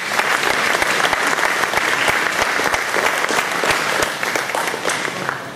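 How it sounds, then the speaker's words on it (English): An audience at a Vedanta centre gathering applauds two swamis, with loud, dense, sustained clapping from a large crowd close by that runs the whole time and tapers slightly near the end. "Please give a round of applause to both Swami."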